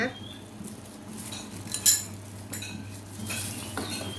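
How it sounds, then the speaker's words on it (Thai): A spoon stirs a traditional jackfruit curry with fermented fish sauce in a pot, giving a few faint scrapes and one sharp metallic clink over quiet kitchen background. "แล้วก็คนให้เข้ากันเลย"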